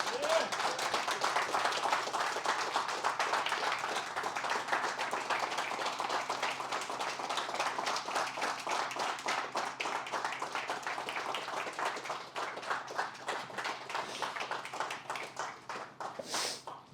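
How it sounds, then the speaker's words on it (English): A small group claps steadily for a martial arts blue belt promotion, a dense patter of hand claps that continues throughout and thins slightly toward the end. "Clap it out for him."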